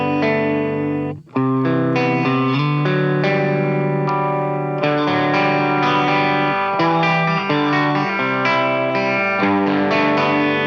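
Electric guitar through a Line 6 POD Express Black with just a touch of grit, playing sustained chords and picked notes that ring out with chorus and echo shimmer, loud and unaccompanied after a brief pause near the start.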